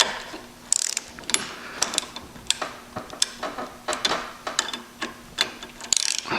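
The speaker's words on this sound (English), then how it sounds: "So we've got our torque wrench, and we're going to set it to, let's go to 23." A torque wrench clicks and ratchets while tightening connecting rod bolts, a series of sharp close metallic ticks in an uneven rhythm throughout, with no talking.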